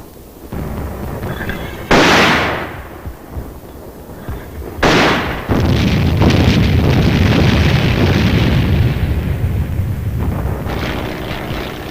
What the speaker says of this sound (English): the aerial observer directs the mortar fire on enemy positions that can't be seen from the ground.